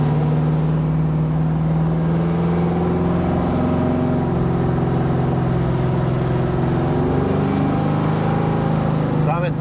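1974 Chevy Camaro accelerating in second gear, a loud close engine roar climbing steadily in pitch as it winds out, continuous with no break.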